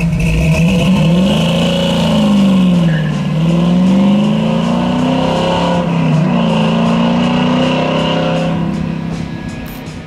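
A restored 1970 Chevy Camaro with a 350 V8 revs loudly up close, its low engine note rising and falling through several throttle blips before easing off near the end, with no one talking.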